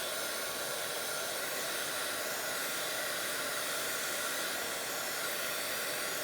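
A hair dryer blows steadily and close by over a Bible journal page, a constant broadband whoosh with no pauses, drying the back of the page.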